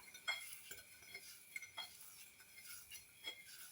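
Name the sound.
stirring garlic mixture for lechon belly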